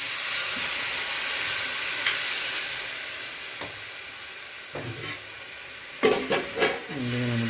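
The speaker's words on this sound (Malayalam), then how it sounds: "ഏകദേശം മുളകും മല്ലിയും മൂത്തിട്ടുണ്ട്. കുറച്ച് വെള്ളം, ഏകദേശം 1 ഗ്ലാസ് വെള്ളം." Water poured into a pan of fried chili and coriander for Kerala-style pork fry, setting off a steady loud hiss and sizzle that fades gradually, with a few clinks and stirring scrapes toward the end.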